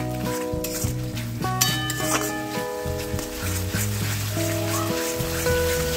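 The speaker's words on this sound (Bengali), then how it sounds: "কষিয়ে নিচ্ছি মশলার সঙ্গে।" Spice masala with dry-roasted kasuri methi sautéed in a pan for a Bengali broccoli curry, a continuous crackling sizzle with stirring scrapes, partly masked by sustained background music throughout.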